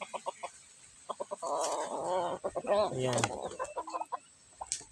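A tame chicken crossbred with a native breed clucks in short bursts, then gives a louder run of close, throaty calls before settling back into scattered clucks, with a brief spoken word.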